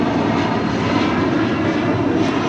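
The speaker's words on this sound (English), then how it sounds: "This is ABX Air Flight 1403 departing to Cincinnati on a 767-200 converted freighter" ABX Air Boeing 767-200 converted freighter, about 40 years old, departing LAX: a loud, steady jet engine roar fills the whole stretch with no talking.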